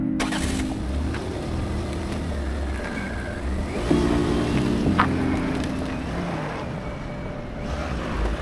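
A car being driven on the road in Germany, with a steady mid-pitched engine hum and tyre rumble heard from inside the cabin, rising slightly as it accelerates.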